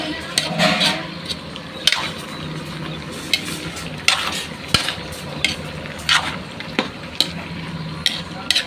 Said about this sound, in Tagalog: haluin natin mga kaibigan para maluto naman yung kalabasa